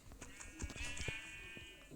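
Sheep in Minecraft give a faint, wavering bleat that stretches across most of the moment. Soft clicks and thumps from gameplay sit around it, and it is quiet overall.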